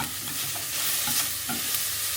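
Celery and carrots fry in a pan with golden onions and garlic, a steady close sizzle with a few soft stirring scrapes and clicks, with no talking.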